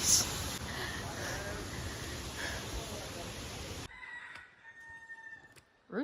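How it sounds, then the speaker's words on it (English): Roosters crow in a Kauai, Hawaii jungle, the calls coming through faintly and from a distance after a loud stretch of rushing, wind-like noise gives way to a quieter outdoor scene. "Roosters."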